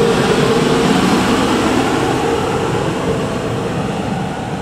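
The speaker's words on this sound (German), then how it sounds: "Gleis 6, Einfahrt des Sonderzuges 898 nach Lauenbrück." Loud, steady rumble of a special train arriving at platform 6 of Bochum main station, a continuous roar of wheels and motor that eases slightly toward the end.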